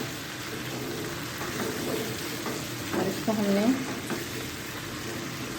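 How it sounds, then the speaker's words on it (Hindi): Chicken drumsticks sizzle and fry in a pan over medium flame, a constant close crackle with stirring scrapes while someone talks briefly over it. "अच्छी तरह से फ्राई करना है।"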